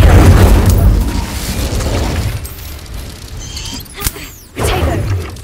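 Incendio fire spell cast in Hogwarts Legacy, a loud whooshing burst of flame fading into crackle, followed by a sharp impact snap and a second surge of magical rumble.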